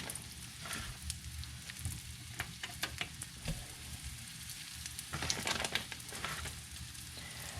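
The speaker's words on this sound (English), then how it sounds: "you want to have a little bit of a sizzle here" Beef sizzles steadily in a hot pan while sautéing for stew, with occasional stirring scrapes and crackles over a continuous frying hiss.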